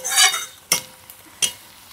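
Onion and garlic fry in a pan with a light sizzle, broken by two sharp clinks of a spoon against the pan's side, close up and with no voices.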